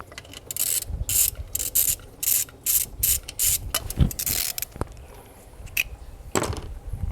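A ratchet loosens the 10 mm top and bottom thermostat housing bolts on a 2015 Jeep Grand Cherokee with a P0128 fault: close, loud bursts of rapid clicking, repeated in short runs separated by brief pauses.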